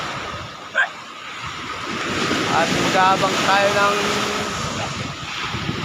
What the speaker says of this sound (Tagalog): At kung napapansin yung mga idol, ay anong lakas ng alon.